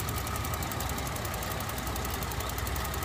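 A 2009 Chevy Traverse's 3.6-liter V6 idles with the hood open, a close, loud, steady engine rumble with a fast, even ticking pulse throughout.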